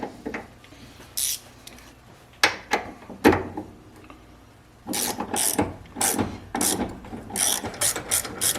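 A socket ratchet turning bolts on the subframe of a classic Mercedes W108/W109/W111/W113, rapid clicking bursts of the pawl in short runs with pauses between, close and loud.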